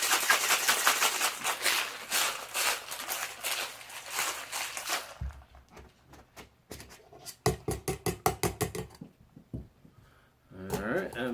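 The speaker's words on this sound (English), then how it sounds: "Alright, let's cap this up." A capped metal cocktail shaker is shaken hard in a fast rhythmic burst of rattling strokes, followed by scattered clinks and knocks, with a voice briefly talking near the end.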